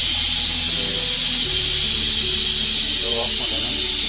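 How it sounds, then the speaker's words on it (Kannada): A pressure cooker vents steam in a loud, constant high hiss that fills the whole stretch, with a voice talking underneath it. "8ನೇ ವಿಷಲ್ ಬಂತು ಗೈಸ್."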